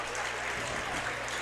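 A student section cheering at a high school boys basketball playoff game between Neshannock and Fort Cherry, a brief, steady burst of crowd applause in a gym, loud and continuous with no clear individual claps.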